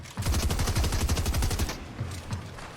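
Rapid machine-gun bursts in a video game tournament match, a fast loud rattling stream of shots for over a second, then scattered single shots trailing off, no talking.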